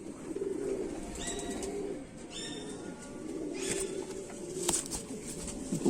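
Kante-wale Kamagar pigeons coo steadily and nearly continuously at close range, their low throaty calls layered over one another, with a few brief higher chirps rising above.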